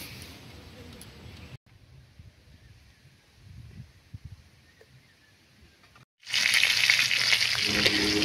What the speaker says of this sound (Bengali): কড়াইটা বসিয়ে গরম করে নেব মাছগুলো ভেজে